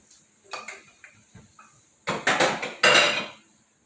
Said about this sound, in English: we're gonna bring this pan over here, grab our spatula